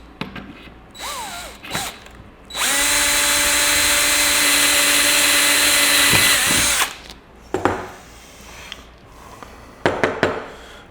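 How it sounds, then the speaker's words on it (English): A power drill whirs at high speed for about four seconds, boring a hole while assembling a blind, loud and steady, surrounded by clicks, clatter and brief bursts before and after. "drill your hole, and they're all going to be exactly the same"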